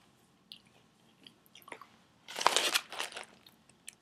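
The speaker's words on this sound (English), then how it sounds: "while I'm chewing it" Crunchy NatureBox snack chewed up close, a quiet run of crisp crunches that builds into a louder burst of chewing, with no talking.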